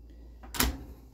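An RV refrigerator door in a Winnebago View 24D swings open and knocks against the bed, giving one short, close clack-thud in an otherwise quiet interior with no talking.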